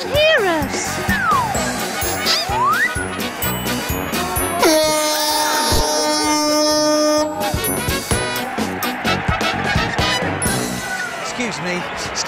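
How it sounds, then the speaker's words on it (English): An air horn blares in a long, loud, steady tone amid a busy, noisy scene with shouting and bouncing sounds around it. "it's a good job you brought that air horn with you, Sooty."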